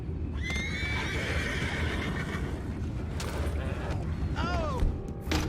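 Horses in the Red Dead Redemption 2 video game whinny several times, with loud shrill neighs and hoof clip-clop over a rumbling outdoor game ambience.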